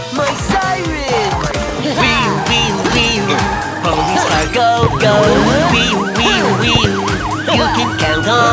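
Loud sirens wail and yelp continuously, several overlapping tones sweeping up and down, with music-like sounds mixed in.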